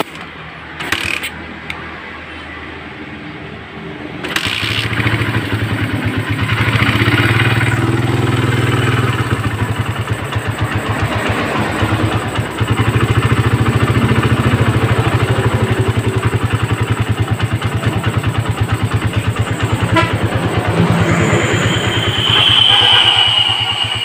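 Motorcycle engine with a PE carburetor idling steadily and loudly up close while the idle is being adjusted, a continuous low throb with slight clatter after a brief quieter start.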